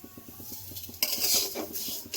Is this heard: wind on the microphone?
no